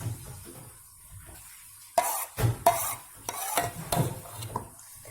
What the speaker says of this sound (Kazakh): Қалғандарының барлығын қырып салып аламыз.